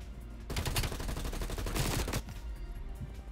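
Rapid automatic gunfire in Black Ops Cold War: a dense, sustained burst of loud shots lasting nearly two seconds, then tapering into quieter background game noise.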